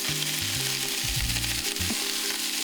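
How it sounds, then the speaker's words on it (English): Broccoli and Brussels sprouts sauté in vegetable oil in a pan, giving a steady close sizzle with low rumbling tones and occasional clatter as they are moved around. "I'm going to get a little bit of oil, a bit of veg oil this time, and we're going to add a bit of colour to the broccoli and sprouts"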